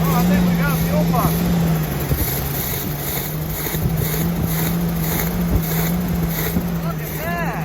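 Engine of a 1972 Winnebago Brave motorhome idling steadily and smoothing out after a fuel pump fix, a constant low hum with wind noise outdoors, a voice speaking briefly over it.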